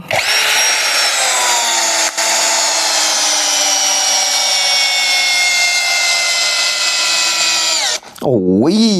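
A JIAPU 95 Nm cordless impact drill in first gear whines steadily at close range as it drives a screw, its pitch sliding slightly, then briefly slowing and revving at the end.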